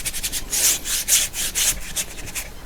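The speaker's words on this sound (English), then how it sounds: "Just you're rubbing in your texture." A brush or tool is rubbed back and forth to work texture into a painting of a haunted butte, making close, rhythmic scratchy strokes in quick repeating bursts.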